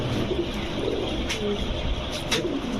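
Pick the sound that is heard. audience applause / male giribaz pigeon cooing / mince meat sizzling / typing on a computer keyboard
male giribaz pigeon cooing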